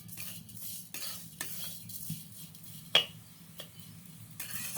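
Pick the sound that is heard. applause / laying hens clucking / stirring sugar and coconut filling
stirring sugar and coconut filling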